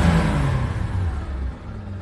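A blue Aero Willys 2600 with a six-cylinder engine and two carburetors, running after a start, giving a steady mid-pitched engine hum that eases down and fades over two seconds.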